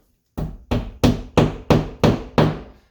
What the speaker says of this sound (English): with a hammer you're going to tap them in